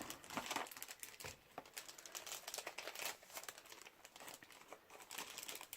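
A strip of designer series paper crinkles and rustles softly as it is scored and folded by hand, with quick irregular scratchy bursts close by in a quiet room.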